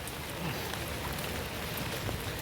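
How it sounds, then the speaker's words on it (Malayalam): Steady rain patters on a surface, a continuous even hiss of drops with no pauses. "മഴയുണ്ട്, ഫുള്ള് വെള്ളം."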